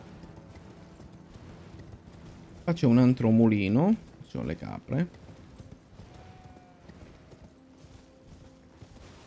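Torrent, the spirit horse in Elden Ring, gallops in a short run of rhythmic clip-clop hoofbeats, with someone talking in Italian over a quiet game background.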